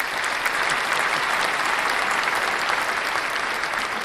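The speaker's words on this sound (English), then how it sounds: "I think that deserves a bit of a clap." Dense, steady applause from many hands fills the whole four seconds at an even level, with no voices over it.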